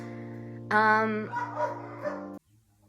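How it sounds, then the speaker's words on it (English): Dogs bark and yip in a few sharp bursts over a steady low hum, then stop abruptly. "Do you hear that? All the barking?"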